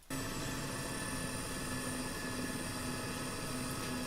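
A Mi-8 transport helicopter in a flight simulator gives a steady, loud droning whine with a low rotor hum that holds constant throughout and has no voices over it.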